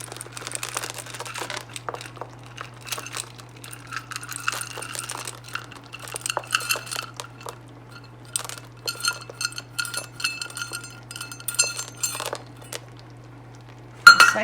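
Semi-sweet chocolate morsels are sprinkled over a brown sugar mixture, making scattered light clinks and pattering ticks in uneven bursts, close and fairly quiet, over a steady low hum.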